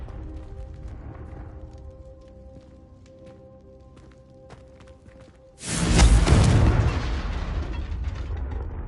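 Confringo fire spell blast in Hogwarts Legacy, a sudden loud whooshing burst that erupts after a quiet lead-in and then rumbles and crackles as it fades slowly, close and heavy.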